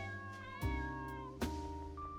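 Cat meowing in the video game Midnight Train, two short tonal meows over a soft sustained musical backdrop, faint and close.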